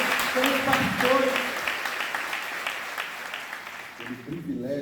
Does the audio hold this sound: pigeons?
no